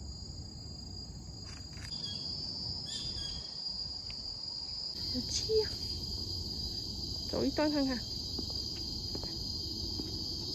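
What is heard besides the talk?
insects chirping in forest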